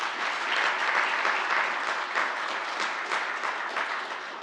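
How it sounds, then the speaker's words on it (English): Steady round of applause from a conference audience for the event volunteers, broad continuous clapping from a sizeable crowd at even loudness throughout. "Please give a round of applause to the volunteers."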